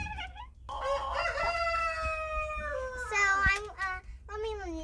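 A chicken clucks and crows close by in a short burst of rising and falling squawks, with a brief pause before a final crow-like call, heard alone and fairly clear.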